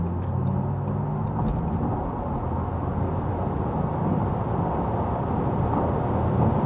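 An Audi e-tron GT RS electric car accelerates from about 90 km/h on a German Autobahn, heard as a steady, loud rumble of road and wind noise that holds evenly throughout with no talking.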